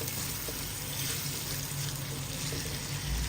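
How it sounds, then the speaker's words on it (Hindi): About two to three tablespoons of water poured into keema frying with yogurt, giving a steady, close wash of splashing and sizzling noise that runs the whole moment without pause. "अब मैं इसमें डाल रही हूँ तकरीबन 2 से 3 खाने के चम्मच जो है पानी के।"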